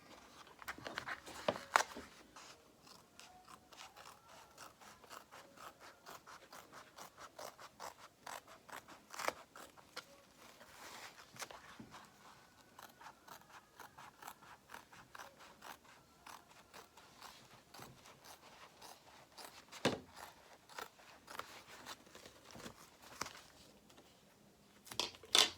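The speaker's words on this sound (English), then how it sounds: "Trim the vinyl or whatever you used on the back" Small scissors make repeated crisp snips as they trim vinyl backing from an embroidered coaster, close and quiet with irregular cutting rhythm.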